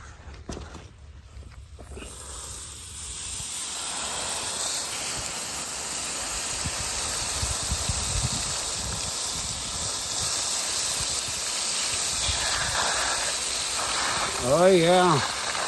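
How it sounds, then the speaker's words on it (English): Steady rushing hiss of running water over stones being rinsed from a decades-old rock tumbler, continuous and fairly loud, with a short voice-like sound near the end. "We're gonna start rinsing."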